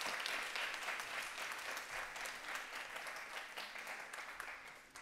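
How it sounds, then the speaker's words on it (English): A conference audience applauds the organizers of an academic panel, a soft, even wash of clapping that fades slightly toward the end. "I think a huge round of applause for them for thinking of this."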